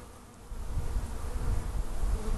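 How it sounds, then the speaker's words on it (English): Honey bees foraging at a hive entrance hole make a steady, close buzzing hum that grows slightly louder as more of them fly in and out. "Here, we've got bees"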